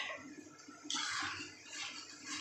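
Water poured into a simmering potol and potato curry, a close rushing splash that swells and then continues as a softer pour.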